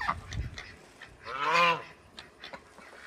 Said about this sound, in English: He's squawking and hollering.